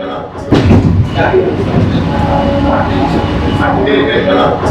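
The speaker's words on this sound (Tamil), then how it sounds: "சென்னை பீச்சிலேருந்து செங்கல்பட்டு போகிறதுல பதினாலு ஸ்டேஷனில் தான் அந்த ட்ரெயின் நிற்கிது" New air-conditioned local train running from Chennai Beach to Chengalpattu, a loud steady rumble and rattle of the carriage with people talking over it.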